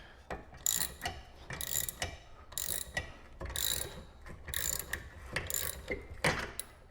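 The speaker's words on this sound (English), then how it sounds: "you can actually hear the rotor popping out from the hub" Repeated metallic clunks and creaks from a rear brake rotor working loose off the wheel hub of an Acura TL, with periodic scraping pops, close and moderately loud.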